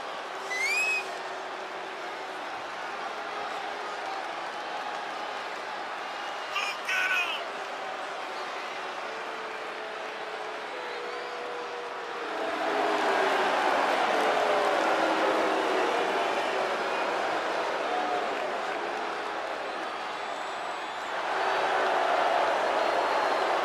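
Crowd in the WWE 2K22 wrestling video game arena, a broad sustained roar that swells louder partway through and again near the end, with a few whistles early on and a voice talking over it.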